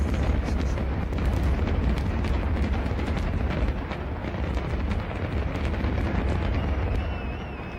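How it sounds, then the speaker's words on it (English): A grand finale of midnight fireworks over Paris roars as a continuous wall of booms and crackling bursts, dense and sustained with no break, rumbling heavily from a distance. "Probably the most spectacular fireworks we've seen yet."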